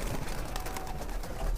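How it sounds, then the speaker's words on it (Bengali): A flock of eight young Madrasi highflyer pigeons bursts out of a loft gate, a brief rush of fluttering wingbeats close by, with a soft coo over a noisy outdoor background. "এই যে গেট ধরে ওই যে পায়রা সব চলে গেল"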